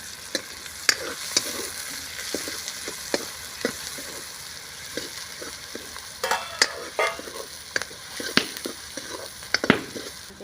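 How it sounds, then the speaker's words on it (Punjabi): Chopped onions and coriander fry and sizzle steadily in a pan while a utensil stirs them, giving irregular scraping clicks and taps over a constant hiss, with no talking. "ਆਪਾਂ ਜੀ ਪਿਆਜ਼ਾਂ ਨੂੰ ਵੀ ਹਲਕਾ ਜਿਹਾ ਬਰਾਊਨ ਜਿਹਾ ਕਰ ਲਾਂਗੇ"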